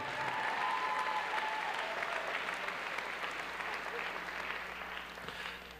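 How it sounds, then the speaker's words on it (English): Sustained applause from a graduation audience at a 2016 high school commencement ceremony, dense steady clapping at moderate distance that fills the hall and slowly thins toward the end. "You can clap right there."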